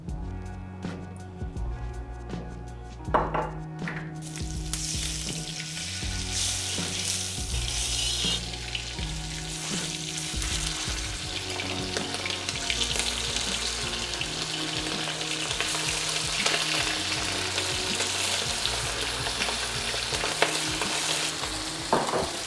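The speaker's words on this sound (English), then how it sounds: "Nice, we put our chicken thighs in. You can hear the sizzle." Chicken thighs frying in olive oil and butter in a hot wok give a steady, loud sizzle with crackling and a little stirring throughout, and no talk over it.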